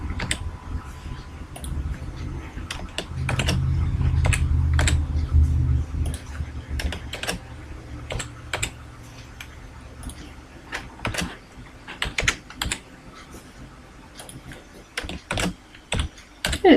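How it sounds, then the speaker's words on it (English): Typing on a computer keyboard in quick bursts of close, crisp key clicks, separated by pauses and a few heavier taps, with no talking. "To add text, simply click a shape and start typing."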